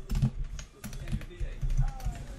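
Typing on a computer keyboard, a quick run of soft close key clicks in an irregular rhythm, with someone talking over them.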